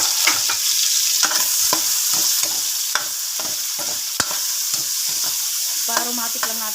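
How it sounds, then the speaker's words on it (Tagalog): Onion and garlic sautéing together in hot leftover frying oil from pork liempo, a steady loud sizzle with repeated sharp scrapes and clacks of a spatula stirring through the pan. "Dito na ako guys magigisa ng sibuyas at bawang sa pinagprituhan ko."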